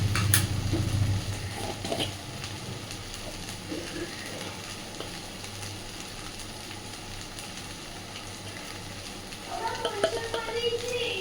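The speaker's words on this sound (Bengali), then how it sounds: "খুব ভালোভাবে নাড়াচাড়া করে সব কিছুকে এবার একটু মিশিয়ে দেব" Fish roe chorchori with greens frying in oil in a pan, a soft steady sizzle with occasional spoon clinks and stirring scrapes, louder at the start and end, fairly quiet and close overall.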